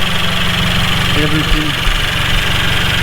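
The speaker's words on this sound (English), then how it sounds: "engine working fine, perfect engine" A Mercedes C300 engine idling steadily with an even low rumble and slight knock-like pulses, close by, while a person speaks briefly over it.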